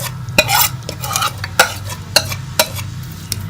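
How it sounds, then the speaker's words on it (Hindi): Marinated lemon pepper chicken frying in a small spoonful of oil, a loud steady sizzle broken by sharp clacks of a spoon stirring against the pan, close and without any voices. "ये एक छोटा चम्मच जो है हम ऑयल का डालेंगे और इसके अंदर ये मैरिनेट किया हुआ चिकन शामिल कर लेंगे।"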